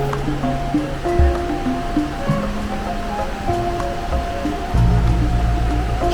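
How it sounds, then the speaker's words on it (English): A river flows below Tegenungan Waterfall near Ubud, Bali, giving a steady, continuous rush of water that swells slightly louder toward the end, with steady tonal sounds layered over the noise. "So this is the river."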